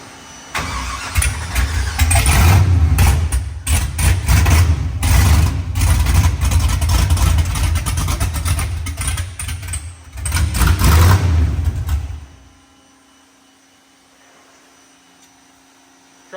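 A car engine with open headers fires up and revs in loud, ragged bursts for about twelve seconds, dips briefly, roars again, then cuts off to near silence.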